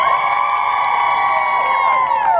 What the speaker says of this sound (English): That sounds like a crowd to me.